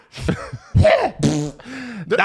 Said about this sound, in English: that was a crazy cough